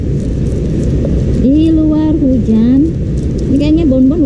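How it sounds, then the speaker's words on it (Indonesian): Steady rain falls outside, a constant loud hiss running through the whole stretch while a person talks over it nearby. "Ini di luar hujan"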